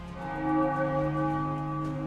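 Slow bell tolling at the Tower of London, a resonant execution bell with long ringing overtones that hang and decay steadily, heard alone without speech.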